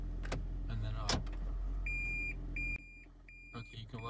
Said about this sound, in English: That beeping is means the car is in reverse